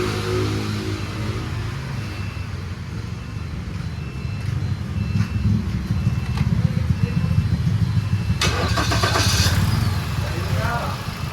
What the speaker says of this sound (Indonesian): Untuk mesinnya sudah hidup teman-teman.